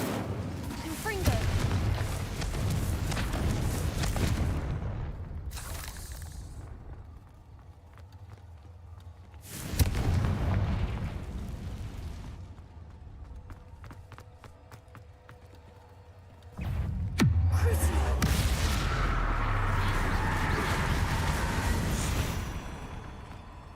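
Repeated Confringo fire-spell blasts in the Hogwarts Legacy video game, set in a cave, come as loud booming bursts with long rumbling tails, one near the start, one around the middle and a sustained barrage later.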